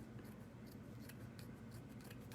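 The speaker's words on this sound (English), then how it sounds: "I'm just going to cut it apart" Scissors snip through cheesecloth along a folded crease, a steady run of close, quiet crisp cuts with soft rustling of the fabric and no voices.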